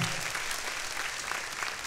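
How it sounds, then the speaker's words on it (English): Applause from a school audience at a Christian academy's High School Musical fall production, honoring parent volunteers; a dense, steady burst of many hands clapping, close and fairly loud, with no talk. "Give them a round of applause."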